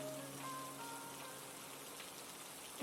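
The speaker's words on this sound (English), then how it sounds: "Is it really raining that hard out there?" Heavy rain pours steadily outside in a video game scene, a faint, even hiss of falling water with soft low tones fading in the background and no talk.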